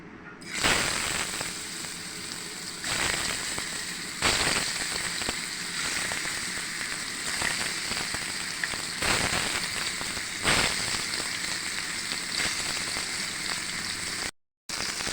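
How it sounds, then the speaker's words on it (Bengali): Tilapia fish frying in a pan of oil gives a steady, dense sizzle that crackles throughout, with a few louder spitting bursts and one brief dropout near the end. "মাছটা এখন আমি ভালোভাবে ভেজে নেব। প্যানে মাছ দিয়ে দেবো ভাজার জন্য"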